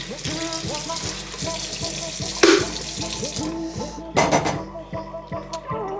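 Nama J3 juicer parts are rinsed under a running kitchen tap, giving a steady rush of water with a couple of louder splashing bursts as the pieces move through the stream.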